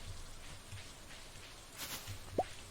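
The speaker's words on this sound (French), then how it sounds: "Je profite de ces jours de pluie." Soft, steady patter of rain falling in the farming video game Stardew Valley, a quiet continuous wash with a single brief higher blip near the end.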